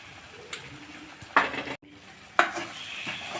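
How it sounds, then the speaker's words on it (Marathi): Onion-garlic masala for egg curry being stirred in a pan, with two distinct scraping strokes and a faint sizzle between them, close and fairly quiet. "हे आता आपण चांगल्या प्रकारे मिक्स करून घेऊ."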